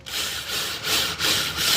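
A power drill bores into the center of a wooden broom handle, grinding steadily with a harsh whirring and slight rhythmic pulsing as it bites, close by and without any voices.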